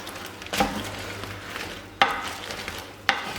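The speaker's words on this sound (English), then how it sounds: "You have to stir it." A utensil stirs garlic butter shrimp in a sizzling pan, making three distinct scraping knocks spaced unevenly over a low, steady fry. The sound is close and moderately loud.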